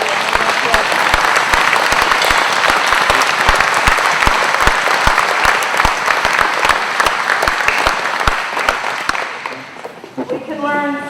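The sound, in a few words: applause for a town hall meeting audience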